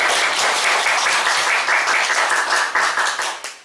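A church congregation claps enthusiastically during a sermon, loud dense clapping that holds steady for several seconds and then fades out near the end.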